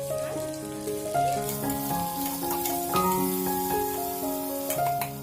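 Sliced onion and tomato sauté in hot oil for a goat intestine curry, giving a steady, close sizzle alongside sustained tonal notes, with no talking.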